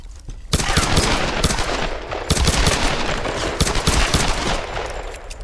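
Rapid bursts of gunfire in the video game Tomb Raider crackle loudly and continuously, with sharp repeated shots layered over one another.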